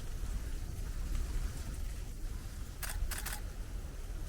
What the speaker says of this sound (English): Seems to dampen that shutter just a bit, and you don't get as many vibrations, which is great.